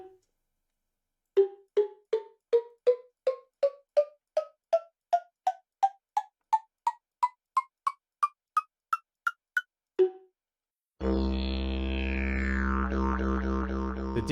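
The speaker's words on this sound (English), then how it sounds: "To make the sound of a cowbell, all we need is some soul sand, and this is what it sounds like." Minecraft note block cowbell tuned by soul sand beneath it, playing a rising run of about twenty-five short, bright metallic clanks in steady rhythm, alone and clear, then a brief pause before a sustained buzzing tone cuts in.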